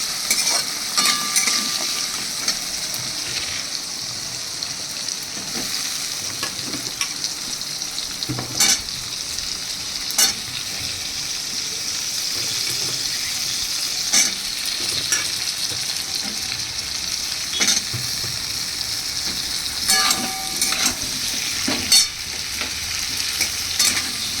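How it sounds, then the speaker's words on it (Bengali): Potatoes and jackfruit seeds frying in oil in a pan, a continuous sizzle broken by repeated scraping and clinking of a spatula stirring, close and fairly loud with no talking. "এবার এর মধ্যে আমি আলুগুলোকে দিয়ে দেবো"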